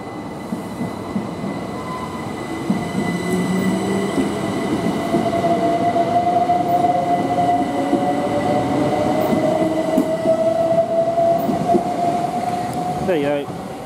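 Southeastern train pulling out of Ashford International toward London Charing Cross, heard as a steady rumble of wheels with rising whine and squeal, close and loud, with some faint voices in the background.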